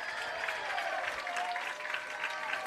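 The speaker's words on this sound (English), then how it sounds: "we hear the crowd getting into it here" A crowd at a women's college soccer conference championship final reacts with continuous clapping and scattered cheers, steady and moderately distant throughout.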